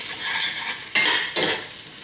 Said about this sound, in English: I just put it in here and I just whisk it real quick.